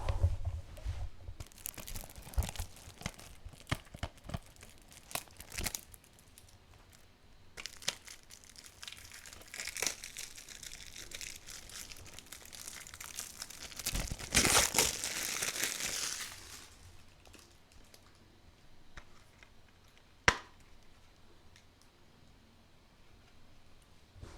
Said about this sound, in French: donc là je l'ai déballé